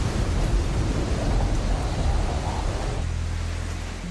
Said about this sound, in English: At the same time, the rain picked up in intensity.